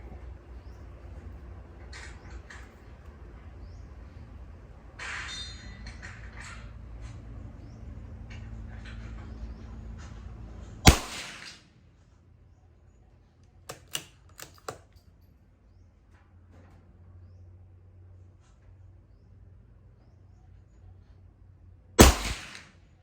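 A CZ-457 rimfire rifle fires Aguila Super Maximum hollow-point rounds at a 50-metre range: two sharp, loud, isolated cracks about eleven seconds apart, with faint handling clicks and low background rumble between them.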